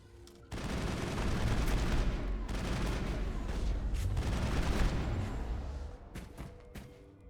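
Heavy sustained gunfire in a Mass Effect firefight, loud rapid bursts rattling for several seconds with brief gaps, followed by scattered single shots.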